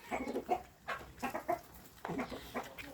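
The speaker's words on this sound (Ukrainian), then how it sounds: "О, вже кури зайшли." Chickens cluck in short, choppy bursts nearby, several calls overlapping over a few seconds.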